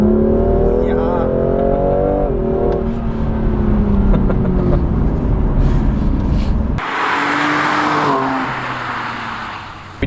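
A tuned BMW M2 Competition revs hard on a dyno, its engine note rising loud and steady through several seconds, then cutting into a roaring, broadband blast near the end, with voices talking underneath.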